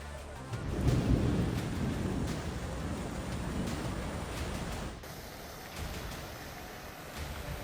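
Heavy rain and floodwater pour through the streets of Mahayel, Saudi Arabia, a continuous broad rushing wash with rumbling swells, steady and without speech.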